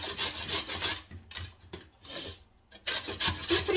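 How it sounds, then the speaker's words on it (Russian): Raw pumpkin rubbed on a coarse hand grater, close, loud scraping strokes in uneven bursts with short pauses between them. "Сейчас как раз сезон тыквы. Будет круто. Прям на крупной терке натру."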